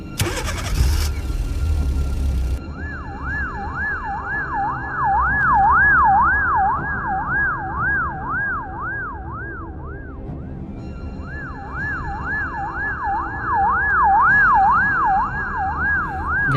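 A cartoon ambulance engine starts with a brief rumble, then a loud wailing siren rises and falls steadily as the vehicle drives off, pausing briefly before resuming.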